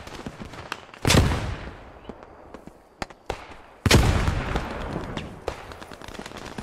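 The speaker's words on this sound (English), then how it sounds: "Everyone throw one frag." Frag grenades explode in a video game, two big bursts about three seconds apart with crackling blasts and sharp gunfire pops scattered between and after them.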